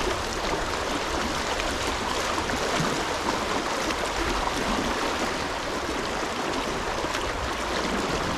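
Fast-flowing water of the East Branch of the Delaware River, a steady, loud broadband rush and gurgle close by, continuous for the whole stretch with no talking.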